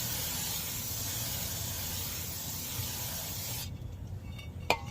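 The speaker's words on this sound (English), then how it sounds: "I like to brake clean, like brake clean on the braking surface, on the inside," Brake cleaner sprays onto the rotor braking surface of a 2010 Toyota RAV4 as a steady, loud aerosol hiss that runs for about four seconds, then stops abruptly, leaving a faint click.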